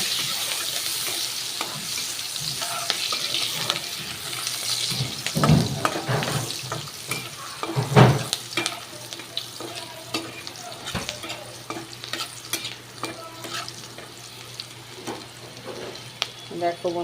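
Chopped onion frying in oil for an egg curry, a continuous crackling sizzle with stirring scrapes and a couple of louder knocks, some faint water-like splashing underneath, no talk.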